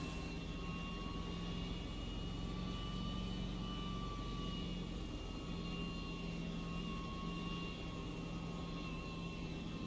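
A steady, loud onboard race car engine roar runs unbroken throughout at a motor speedway, a constant high whine over a deep rumble with no voices.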